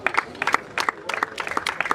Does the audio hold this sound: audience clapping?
yes